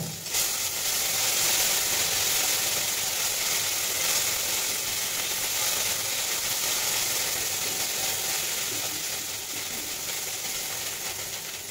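Ginger paste frying in hot oil with cumin seeds for a Bengali fish curry, a continuous loud broadband sizzle holding steady throughout with no voices.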